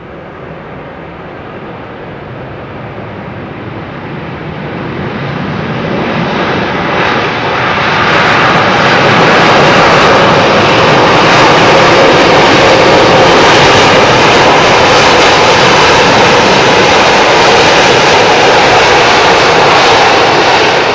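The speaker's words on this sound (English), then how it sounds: "Inboard reversers only." An airliner lands on runway 27R at London Heathrow using only its inboard thrust reversers, the jet roar swelling from a distant rumble into a loud, sustained broadband blast.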